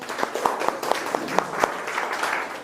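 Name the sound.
audience clapping for themselves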